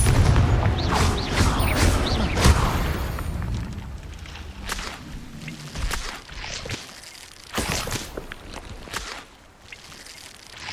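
Spell explosions from the Confringo curse in Hogwarts Legacy burst out as several booming blasts in a busy game mix, with a heavy low rumble early and sharper cracks later.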